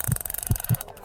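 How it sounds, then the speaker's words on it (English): A heartbeat sound effect gives four deep, muffled thumps spaced evenly over about a second, with a low hum between the beats. "feel your heart beating"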